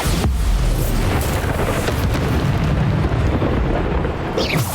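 Bombarda spell explosions in the video game Hogwarts Legacy erupt one after another in a dense, continuous barrage of loud, rumbling booms with no pause throughout.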